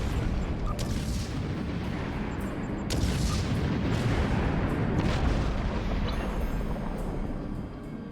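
Booming explosions from a bombing run in a Star Trek Borg video game rumble loudly and steadily, with several sharper blasts punctuating a continuous low roar throughout.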